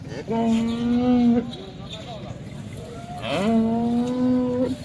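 A freshly calved Holstein Friesian cow at a cattle market moos twice, long drawn-out lows close by, separated by a short pause with faint background noise.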